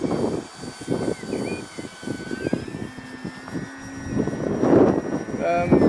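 A radio-controlled Arrows Hobby Bigfoot model propeller plane on a 3S battery whines overhead on its maiden flight, its pitch shifting as it passes, with gusty wind buffeting the microphone and people talking nearby.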